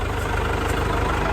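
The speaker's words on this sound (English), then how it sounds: "Fixing to hop on the tractor with Matt." A farm tractor engine idles close by, a loud, steady low rumble with an even rapid pulse and no other sounds.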